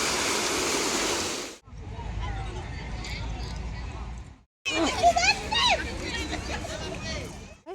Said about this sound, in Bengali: এটা আর এই ঝর্ণা থেকে কত গর্জন আসছে